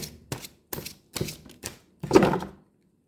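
Tarot cards being shuffled by hand, giving a series of short, close papery slaps and thumps at uneven intervals, ending in a longer burst of riffling cards, with no talking.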